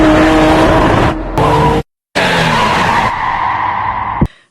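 Film scene of a speeding car skidding hard into a crash: loud, close tire screech and engine roar with a brief cut of silence, then a long screeching slide ending in an abrupt impact and quick fade.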